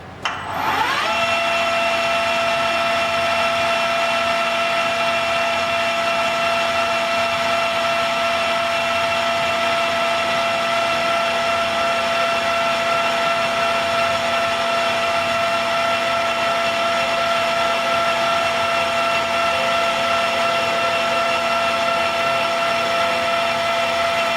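A steady machine whine with strong sustained tones runs continuously and loudly throughout, a metal lathe spinning at constant speed turning brass bullet casings, with no talking.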